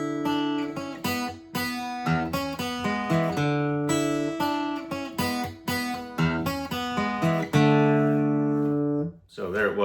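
Electric guitar plays a riff, a bouncing, repeated two-measure figure of crisp picked notes and chords, loud and close, looping without talk.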